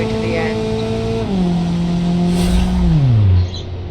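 A car engine held at full throttle in BeamNG.drive, a loud steady drone whose pitch steps down through gear changes, then drops away sharply near the end.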